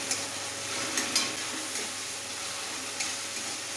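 Boiled potatoes frying in oil in a pan for aloo posto with egg, a dense continuous sizzle close up with a few light stirring clicks.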